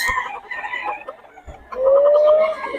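Chickens and roosters offered for sale, with clucking and a long crow rising near and loud in the second half, no talk over it.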